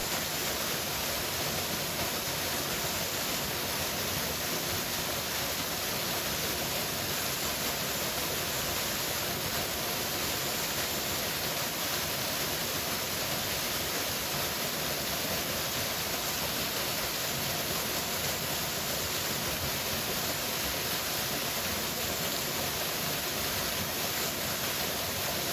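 A waterfall gives a steady, even roar of rushing water that holds at the same level for the whole stretch, with no voices or other sounds.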